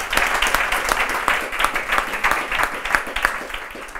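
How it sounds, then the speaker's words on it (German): Audience applause at a talk on a rare disease and self-help groups, a dense, even patter of many hands clapping close by for a few seconds. "Vielen Dank und viel Applaus"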